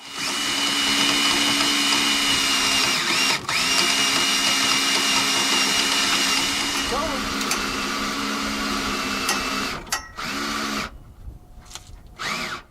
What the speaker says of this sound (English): Attached my electric drill so that I can turn a lot faster